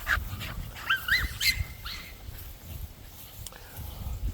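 An American Bully dog, a companion dog, makes short yips and whimpering squeals, a few brief bursts close to the microphone with quieter gaps between them.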